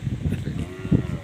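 Goat bleating nearby on a rural farm, a short throaty bleat rising near the end over low background noise.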